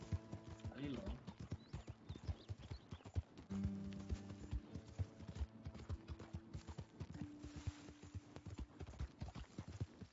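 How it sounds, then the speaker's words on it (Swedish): Quick, steady hoofbeats of a galloping horse clatter beneath tonal game music in Red Dead Redemption 2, with a voice talking over them at times. "Snabb jävla häst alltså."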